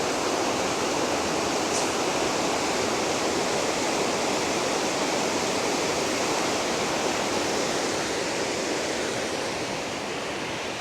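Waterfall roaring steadily in a wintry outdoor setting, a dense continuous wash of rushing water, loud and unbroken for the whole stretch.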